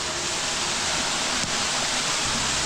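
A thick waterfall roars as a loud, steady, broadband rush of falling water, filling the whole clip without a break.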